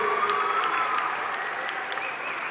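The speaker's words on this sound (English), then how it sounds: "A huge round of applause to this incredible team." An audience gives a steady round of applause for a performing team at a spirituality festival, a dense wash of clapping that holds at an even level throughout, with a faint tonal whistle above it.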